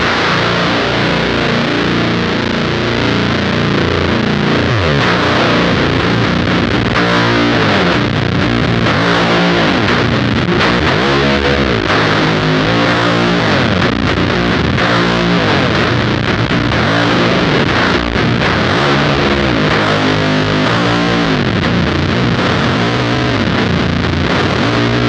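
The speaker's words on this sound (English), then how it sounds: "bump up the volumes of both fuzzes and that clean blend and hear how it sounds" Two fuzz pedals, a Fuzz Imp and a Shroot, stacked with an Adventure clean blend on electric guitar, give a loud, dense, saturated wall of riffing that plays without a break.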